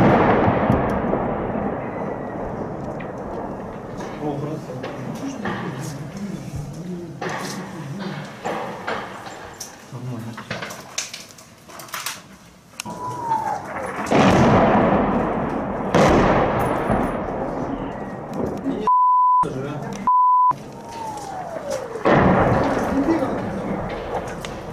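Heavy artillery shelling the airport in Donetsk, heard as scattered booms and cracks of fire, some near and some distant, mixed with gunfire and under intermittent talk.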